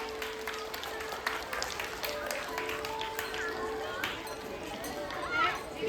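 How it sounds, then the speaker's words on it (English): Applause from an audience at a school Diwali celebration and sports week prize distribution ceremony: a steady wash of clapping, with children's voices and crowd chatter mixed in throughout. "Keep clapping everyone."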